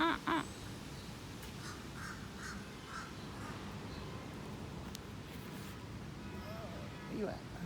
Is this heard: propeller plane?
no